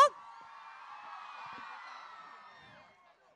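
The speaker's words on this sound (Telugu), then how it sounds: "మీ స్టూడెంట్స్ అందరినీ కూడా ఒక్కసారి ఎంకరేజ్ చేయండి గట్టిగా చప్పట్లతో" A crowd of students cheers and whoops for dancers on stage, a sustained high wash of shouting voices that holds steady, then fades near the end. Clapping is not clearly distinct within it.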